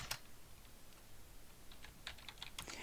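Slow, uneven keystrokes on a computer keyboard, typed with one hand, come as faint scattered clicks, a few sharper taps near the end, over a quiet room hiss.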